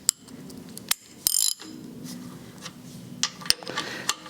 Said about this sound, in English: remove all these bolts that I have here to keep the liners in place